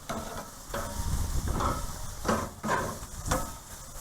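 Pork chops hiss and sizzle on a grill as they are flipped over, the frying sound swelling in several bursts with scraping touches between them.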